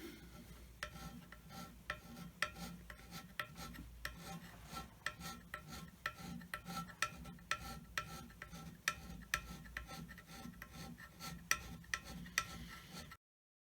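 A surface plate is hand scraped with a steady series of short, crisp metallic scraping strokes, repeating in an irregular rhythm for over ten seconds, close up and fairly quiet, with no talking.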